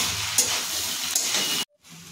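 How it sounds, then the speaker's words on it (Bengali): Steady frying hiss of green banana vegetable cooking in a pan, with two soft stirring scrapes, close and even, then a sudden cut to near silence before the sizzle returns faintly. "আর একটু নাড়াচাড়া করে নিচ্ছি"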